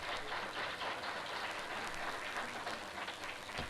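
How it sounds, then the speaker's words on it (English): Steady audience applause at an internet governance forum panel, a dense and even roar of many hands clapping at moderate distance that continues unbroken throughout. "So let's welcome them with a round of applause."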